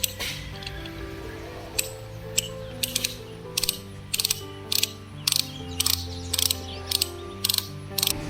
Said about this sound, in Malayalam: അപ്പോൾ നമ്മൾ ഡൈയുടെ ബട്ടൺ ലെഫ്റ്റിലേക്ക് തിരിച്ചിട്ട് ഡൈ ലൂസ് ചെയ്യാണ്.